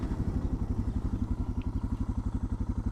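A Suzuki DR650 single-cylinder motorcycle thumps along while being ridden, a close, rapid and even engine pulse with slight mechanical clatter.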